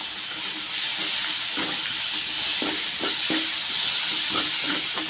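Chopped tomato hits onion and spices frying in a pan for a Kerala green peas curry. A steady, close sizzle runs throughout while repeated stirring scrapes punctuate it, with no talking.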